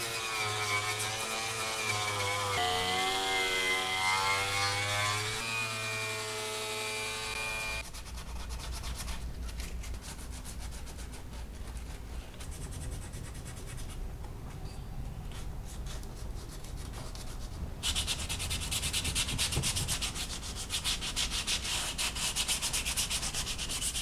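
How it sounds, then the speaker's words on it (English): Grinder stripping paint from the hood of a 1962 Ford Falcon, a continuous harsh abrasive rasp and whir that runs steadily for most of the stretch, close and moderately loud, after an opening passage of other tonal sound. "I'm gonna break out the big guns on the grinder, and we're gonna get that paint off of there."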